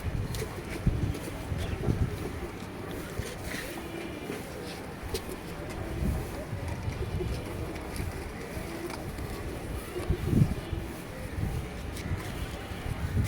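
A pigeon coos softly in a few low, repeated calls against steady background noise; faint voices may sit underneath.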